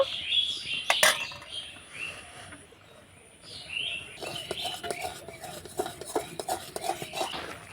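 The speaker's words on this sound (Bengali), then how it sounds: "এভাবে করে আমি অল্প অল্প তেল দিয়ে ভালো করে মিশিয়ে নিব" Hands working dilkhush dough with oil and ghee in a bowl, soft irregular squelching and scraping taps over a few seconds, with light clinks of utensils and faint bird chirps in the background.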